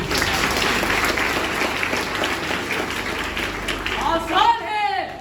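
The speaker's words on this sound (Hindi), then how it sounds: "जोरदार तालियों से स्वागत कीजिए संदीप महेश्वरी।" A school crowd at a foundation day celebration at Ralli International School greets Sandeep Maheshwari with loud applause. The clapping is steady and full, and a voice rises over it near the end.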